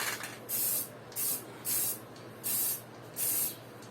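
Bosny spray paint can being sprayed onto motorcycle mag wheels, five sharp hissing bursts of about half a second each with short gaps between, close and clear with no talking.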